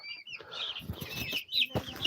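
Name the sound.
meat chickens clucking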